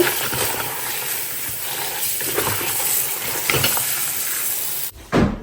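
Cabbage and egg frying in a pan, with a loud continuous sizzle and hiss throughout, a few faint clinks of utensil on pan, and the sizzle cutting off near the end.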